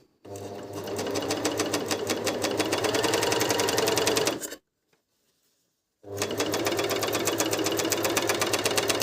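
A Dragonfly 858 sewing machine runs steadily, stitching a seam with a fast, even mechanical chatter for about four seconds, stops in a brief silence, then starts up again at the same loud, close rhythm.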